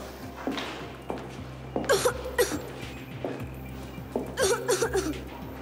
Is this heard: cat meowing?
no